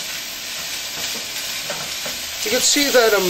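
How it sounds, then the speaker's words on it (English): Sausage and peppers sizzle in a pan over high heat while being stirred quickly, a steady frying hiss with scraping stirs, and someone talks briefly near the end. "Again, quickly stirring over a high heat."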